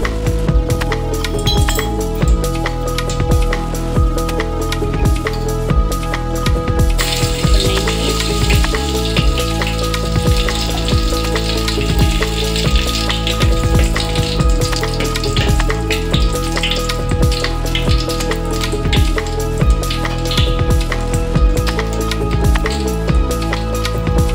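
Whole cloves, cinnamon and bay leaf frying in ghee and oil for veg pulao, a continuous sizzle with repeated metallic clinks of utensils against the pan over a steady tonal background.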